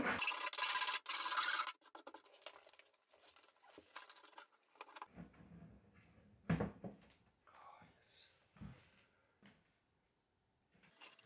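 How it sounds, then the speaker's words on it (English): A metal file rasps at the rounded corners of a cut hole in a CNC controller enclosure, starting with a loud burst of scraping that gives way to quieter irregular strokes and taps. "Some filing was needed to remove the round corners created by the stepper."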